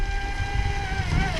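A ProBoat Recoil 2 self-righting RC boat runs across a big lake, its electric motor holding a steady high whine that shifts slightly in pitch, with wind buffeting the microphone throughout.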